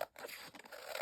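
Scissors snip along the edge of a printed page to trim away its border, producing a quiet crisp cutting and paper-scraping sound close by, with no talking.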